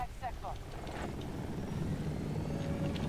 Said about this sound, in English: look at that, I got a chopper